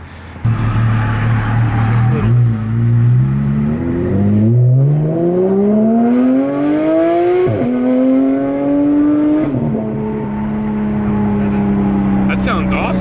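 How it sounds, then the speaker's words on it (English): A straight-piped Porsche GT3 engine pulls hard through the gears from inside the car, loud rising revs broken by sharp shift cuts, then settling into a steady drone. "So we're gonna go for a little ride along in the GT3."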